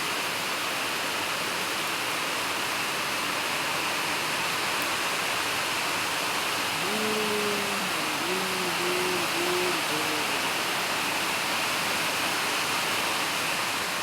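Rain falls in a steady, dense hiss that holds at an even level throughout, with a short faint tonal sound partway through and no voices.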